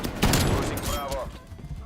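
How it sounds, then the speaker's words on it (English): An automatic shotgun fires in a video game. A burst of heavy, rapid blasts starts loud, then thins into scattered thuds, with a voice speaking partway through. "He's got an automatic shotgun, that asshole."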